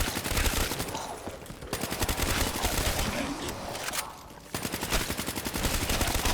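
Sustained automatic gunfire in Call of Duty: Black Ops III on the Kino der Toten zombies map, dense rapid bursts nearly filling the moment with a brief lull near the middle, loud and close.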